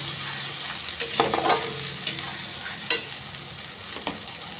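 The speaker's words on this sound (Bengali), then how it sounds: "দুটো টমেটো পেস্ট করেছিলাম, খুব ভালো করে কষিয়ে নেব।" Tomato paste fried and stirred in a pan for a fish curry, with a soft continuous sizzle and a few scraping stirs of the spoon close by, no voices.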